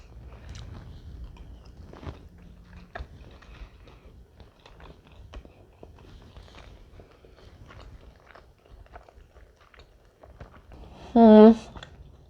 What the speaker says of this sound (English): time to try this ribbon meatloaf